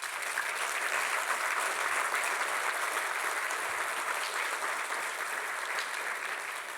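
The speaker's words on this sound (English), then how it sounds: "Could you please give a round of applause for everyone?" Audience applause fills a conference hall at the closing of a cloud native tech summit, an even, sustained wash of many hands clapping at a steady level, with no voices on top.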